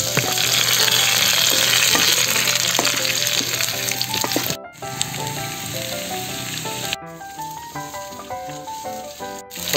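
Beef skin and beef fat sauté with onion in a pan, giving a loud, steady, dense sizzle and crackle throughout, with brief breaks and occasional stirring clicks.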